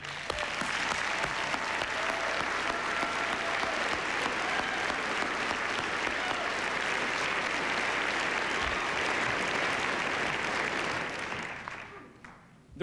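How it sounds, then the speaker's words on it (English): Applause from the audience at the 1999 NASCAR Winston Cup Series awards banquet, a dense, sustained clapping from a large crowd that holds steady for several seconds before fading out near the end. "How about a round of applause for them guys?"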